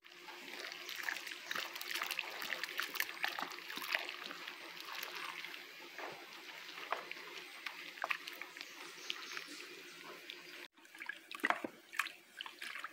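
Homemade Dove disinfectant mixture being stirred, with soft, faint watery swishing and trickling that continues steadily, alone and close by.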